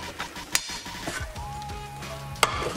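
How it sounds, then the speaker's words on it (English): Bubbling cheese on a chicken, rice and broccoli casserole just out of the oven, a close, soft sizzle with popping bubbles and a couple of sharp dish clinks. "bubbling cheese is a thing of beauty"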